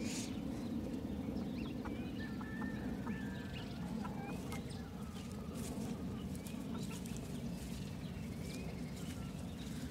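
Hens cluck and murmur steadily on a green pasture patch, a flock of chickens heard close by with soft repeated calls over continuous outdoor background.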